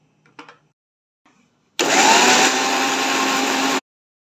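A mixer grinder whirs loudly and steadily for about two seconds, blending mango, sugar, ice cream and milk, after a few soft clicks and handling noises, with no talking.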